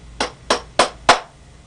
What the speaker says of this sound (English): and hammer it home